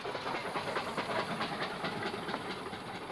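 A steam locomotive of the X-Class working on an Indian hill railway, heard up close as a steady broadband hiss of steam with rhythmic chuffing beats and faint rail clatter underneath, continuous throughout.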